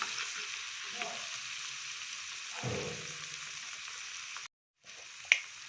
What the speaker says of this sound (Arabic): هننزل فيه بمعلقه من الثوم، نقلب كده تشويحه